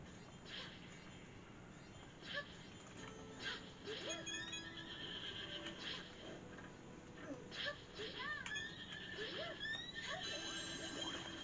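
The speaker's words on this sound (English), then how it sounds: "Ooh, a horse." Horse neighing in the Princess Peach Showtime! video game, a few short whinnies rising over busy game music and effects while a player talks.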